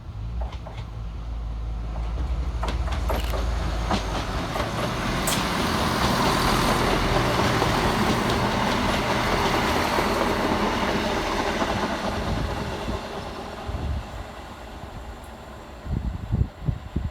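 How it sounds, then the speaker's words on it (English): A ScotRail Class 158 diesel unit pulls into North Queensferry station on the Fife Circle with a loud, sustained engine rumble and wheel noise that swells, holds, then eases as it slows, ending with clanks and squeals. "Next to arrive at the station will be 174-10, working 1 Lima 25 for Scotrail from Edinburgh Waverley through to Dundee."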